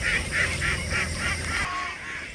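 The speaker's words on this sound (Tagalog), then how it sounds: "tingnan nyo yung itik natin sa unahan" Ducks calling on a small Filipino farm, a string of about six nasal, evenly spaced honking quacks close by, then a fainter call as the sequence trails off.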